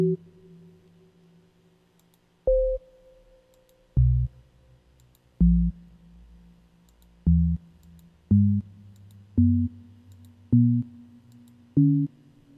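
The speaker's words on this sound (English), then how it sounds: "In the case of hydrogen, since it only has 1, we'll just hear that 1. In the case of helium, we'll hear both of them." Synthesized tones are mapped to the ionization energies of hydrogen and helium. They arrive as a sequence of about nine evenly spaced, sustained electronic notes, some single and some stacked in pairs, clear and with no speech.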